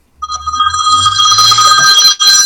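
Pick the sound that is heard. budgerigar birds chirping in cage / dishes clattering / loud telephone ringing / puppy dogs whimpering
loud telephone ringing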